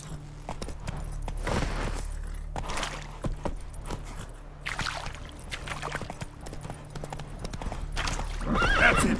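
A horse in the video game The Witcher 3 neighs and whinnies while its hooves clip-clop at a steady trot, the hoofbeats rhythmic and close with a louder whinny near the end.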